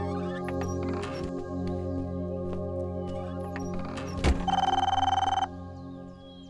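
A telephone bell gives one short burst of rapid, trilling rings in a Bhojpuri film scene, clear over a humming music background after a thud.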